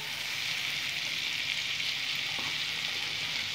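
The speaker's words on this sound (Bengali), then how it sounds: "কষাবো ভালো করে, কষিয়ে নেব যতক্ষণ পর্যন্ত মশলা থেকে তেলটা সেপারেট না হচ্ছে" Masala for prawn curry frying in a pan with turmeric and water, a dense, steady, close sizzle that holds evenly throughout with no voices.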